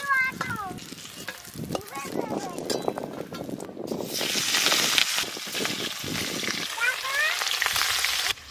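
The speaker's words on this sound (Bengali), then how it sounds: "মাছ ভাজা হয়ে গেছে, তুলে নেব।" Fish frying in hot oil in a pan in a village kitchen, stirred now and then. A continuous loud sizzle comes with scraping stirs, and voices can be heard intermittently.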